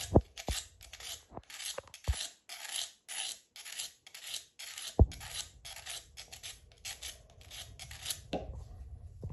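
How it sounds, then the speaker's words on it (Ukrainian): Pruning shears being sharpened by hand against an abrasive stone, giving rhythmic rasping strokes in quick repeated passes, then a steadier grinding scrape near and fairly quiet, with no talking. "ось починаємо робити заточку"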